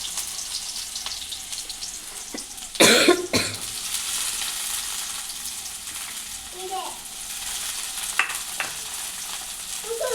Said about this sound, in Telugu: ఇప్పుడు ఉల్లిపాయలు వేస్తున్నాం.